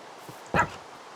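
A single short, close bark from a dog in a video game, preceded by a faint yip, heard alone over quiet background.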